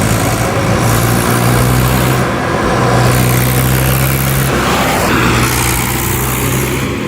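A tractor with power steering is driven empty, pulling no load; a steady, loud mid-pitched engine drone runs throughout with a low harmonic hum and no talking.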